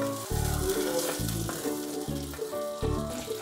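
Coriander seeds, black pepper, fenugreek and cumin dry-fry in a pan for chicken sukka, with a soft crackling sizzle under rhythmic scraping stirs and a faint tonal hum in the background.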